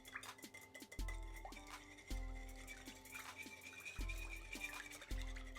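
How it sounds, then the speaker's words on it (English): A whisk clinks and taps rhythmically against a bowl while mixing two large eggs into milk, giving soft, quick, close-up scrapes and knocks. "We just want to whisk this up until those eggs are whisked into the milk really good."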